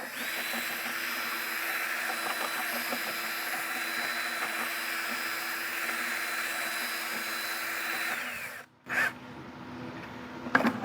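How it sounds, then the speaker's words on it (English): A power drill with a paddle whirs steadily while mixing drywall mud and water, loud and close, then cuts out near the end, followed by a short restart and brief scraping. "Mixing the mud with a little bit of water."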